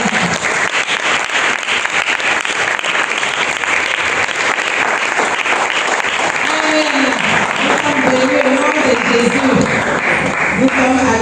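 A church congregation applauds loudly and continuously in worship while voices rise in acclamation and singing-like calls over the clapping, growing more vocal toward the end.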